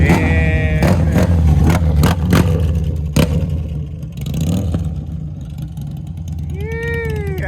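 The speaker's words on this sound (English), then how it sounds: "he know how to ride the Harley" A Harley-Davidson CVO motorcycle rumbles loudly with deep engine revving and sharp throttle blips, close by and dominant, with voices briefly heard toward the end.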